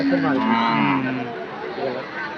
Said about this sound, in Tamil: மாடு அருமையான மாடு சுத்தமான நாட்டு மாடு